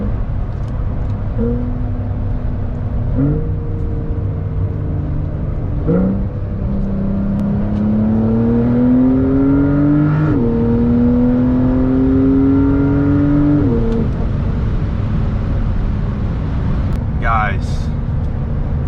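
Porsche 911 Carrera 4 GTS engine while driving, loud and close, revving up through several gears with rising pitch sweeps and brief drops at each shift, a continuous strong exhaust note without talk.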